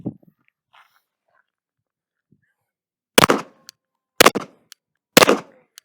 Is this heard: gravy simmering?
no